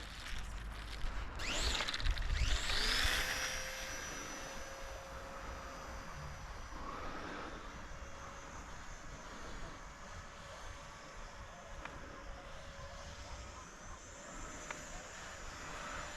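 A small radio-controlled P-51 Mustang warbird model plane flies overhead, its electric motor and propeller making a steady buzzing whine. A louder swell comes near the start, then the sound settles into a fainter, distant drone.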